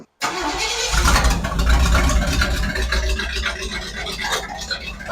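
A car engine fitted with a new Progression programmable ignition cranks and fires up, then runs at a loud, steady, rumbling idle close to the microphone.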